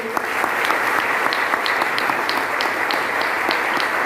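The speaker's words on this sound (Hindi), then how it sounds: "एक बार जोरदार तालियां इसके लिए।" Steady applause from an audience at a motivational success-story talk, dense and continuous with some individual claps standing out, filling the whole stretch at a consistent level with no talk over it.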